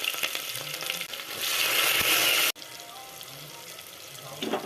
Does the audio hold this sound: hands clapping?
no